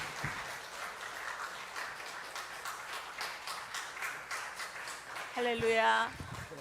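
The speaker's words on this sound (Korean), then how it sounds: "우리 박수로 환영하도록 하겠습니다" A church congregation at a Sunday afternoon service applauds to welcome a missionary, a sustained round of clapping at moderate volume, with a voice speaking briefly near the end.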